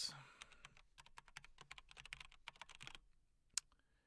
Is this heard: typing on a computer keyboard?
yes